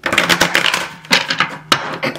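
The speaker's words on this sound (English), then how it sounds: "I want to give this a hard shuffle." Tarot cards shuffled hard in the hands, a fast run of crisp papery riffles and snaps with a few sharper slaps, close and fairly loud with no talk.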